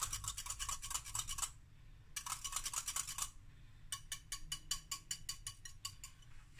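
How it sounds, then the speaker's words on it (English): Oil, egg and buttermilk are whisked together in a bowl for blueberry pancake batter, quick rhythmic scratchy strokes in close bursts with short pauses between them. "Just to mix it, the oil, the egg and the buttermilk."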